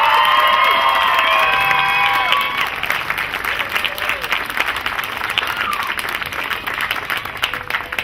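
Audience at the 2011 Duncan's Got Talent final applauding the winner, with loud sustained clapping and cheering from the crowd, including high shouts and whistles early on, then steady applause as it continues.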